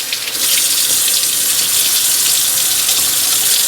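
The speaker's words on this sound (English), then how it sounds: "turn my cold water on" Cold water runs steadily from a kitchen tap over eggs, making a loud, continuous hissing gush that starts almost at once and keeps flowing without a break.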